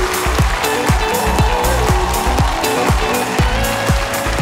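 A crowd at the Miss Russia 2023 pageant final applauds steadily beneath loud music with a pounding, regular beat.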